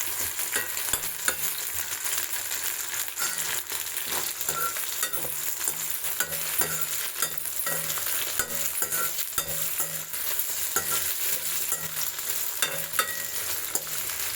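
A potato and tomato curry sizzles and fries steadily in a pan, a continuous bright crackle with occasional stirring scrapes and no voices.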